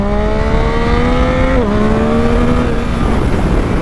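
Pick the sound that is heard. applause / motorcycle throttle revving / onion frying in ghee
motorcycle throttle revving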